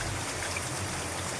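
Water falls and trickles steadily inside a home kitchen during flooding, a continuous close splashing wash with no voices.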